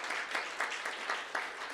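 An audience at a privacy forum ceremony applauds after a chair is appointed, a moderate round of clapping with several louder individual claps punctuating the wash.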